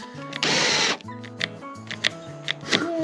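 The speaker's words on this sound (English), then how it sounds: "Shane, your drill's not very good." A power drill whirs in a short burst of about half a second, near and loud, followed by quieter mechanical clicks and tonal hums in a garage setting.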